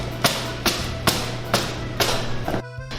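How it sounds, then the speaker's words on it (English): Piped macarons tapped against a knee to knock out air bubbles: five dull, evenly spaced thuds in a steady rhythm, close and fairly soft, with a low background hum and no talking. "So after you've tapped out the air bubbles on your knee"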